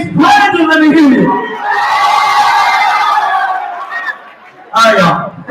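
A crowd at a middle school event cheers, screams and yells for a contestant, a loud sustained roar of many voices that swells, fades slightly, then bursts up again at the end.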